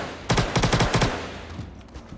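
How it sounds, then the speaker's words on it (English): Automatic gunfire in the video game Star Citizen: a rapid burst of about eight loud, close shots in quick rhythm, followed by fainter echoing pops and fading reverberation. "That was some bad shooting there"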